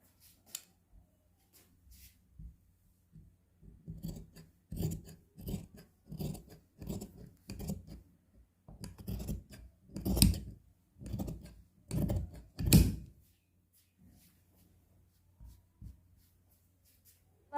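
Scissors snip through kurti suit fabric along marked shoulder curves, a steady series of short crisp cuts that speed into a rapid run before stopping, close and clear in a quiet room.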